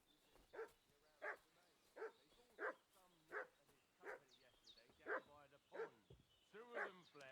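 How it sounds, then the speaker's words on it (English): Dog in the Kingdom Come: Deliverance II video game barking repeatedly, about ten evenly spaced barks with some whimpering between them, moderately close and fairly quiet over a faint background. "What's that dog making such a fuss about?"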